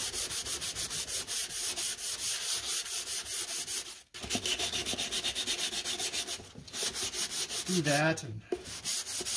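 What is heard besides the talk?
sanding a guitar body by hand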